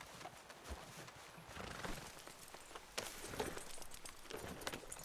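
Horse in Red Dead Redemption 2 clip-clopping its hooves with a short whinny among other game sounds, moderately close and fairly faint.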